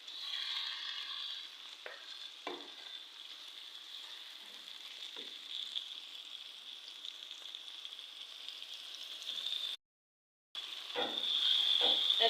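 Cabbage frying in a pan, a steady quiet sizzle with faint scraping stir sounds, broken by a brief cut of silence, then louder sizzling at the end.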